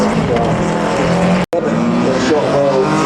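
Modified stock car racing along a rally stage at the McRae Rally Challenge, a loud, continuous engine roar close by with a brief cut in the middle, and a voice speaking over the noise.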